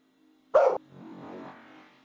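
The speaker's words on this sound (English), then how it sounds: "Yeah, that was my dog." A single loud, sharp dog bark close by, followed by a faint, low rustle.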